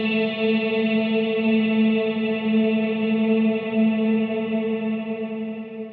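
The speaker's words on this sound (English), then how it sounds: "let me show you the full decay of this reverb. So if I turn this all the way up now" An electric guitar runs through a JHS 3 Series Hall Reverb pedal set to full decay, holding a sustained, shimmering chord that hangs without fading, steady and loud for about six seconds.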